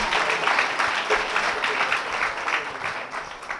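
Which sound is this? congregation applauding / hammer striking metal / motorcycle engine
congregation applauding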